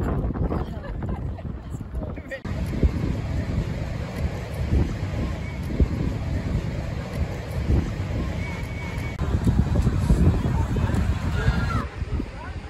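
Gusty wind buffets steadily on an overcast seaside beach, with a low rumbling roar, and people talk intermittently over it.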